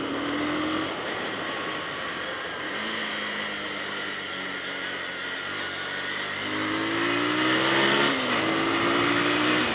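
Honda Splendor motorcycle riding on a rough road with small jumps in Pokhara, Nepal, a steady engine drone under wind noise with rising revs near the end, no talk.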